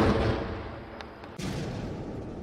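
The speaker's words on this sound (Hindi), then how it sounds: "लेबनान का बॉर्डर धमाकों से दहल रहा है।" Bombing at the Lebanon border produces a faint, distant, continuous rumble of explosions, with a sharper thud-like burst partway through.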